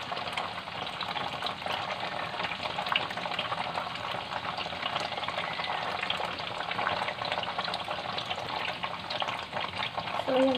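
Tofu frying in a pan until brown for adobong tokwa, an unbroken close sizzle and crackle of hot oil that holds a steady level the whole time.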